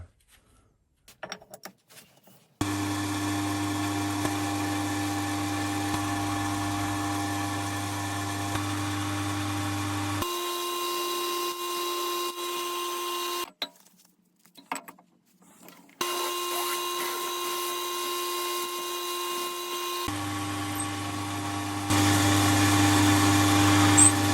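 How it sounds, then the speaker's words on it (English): A power drill whines steadily in long bursts, drilling holes in a metal cross slide part of a mini lathe, stopping and restarting several times with brief quiet gaps, loud and close with a mechanical hum. "what we want to do next is drill our 3 holes to hold the lead screw nut"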